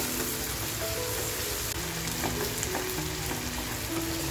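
Salted onions fry in a pan for a mutton masala, giving a continuous rain-like crackling sizzle with a few faint stirring taps underneath.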